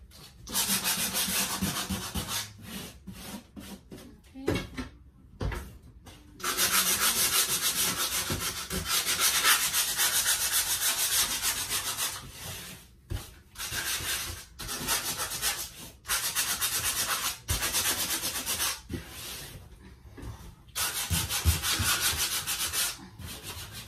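Steady abrasive sanding strokes rasp across patched drywall in long bursts, broken by brief pauses, loud and close with no talking.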